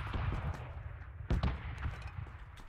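Rapid bursts of AKM rifle fire in the battle-royale game PUBG, sharp repeated shots crackling loudly over a constant game backdrop, with one louder burst midway.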